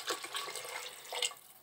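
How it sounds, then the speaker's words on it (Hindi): Water is poured from a glass into rice for a home-style matar pulao, making a steady splashing, rushing gush that lasts under two seconds, close and without talk. "अब हम इसमें पानी डाल देंगे"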